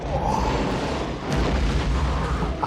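A big explosion in a John Woo action movie rolls out as a heavy, sustained booming roar with deep rumbling and crackling debris.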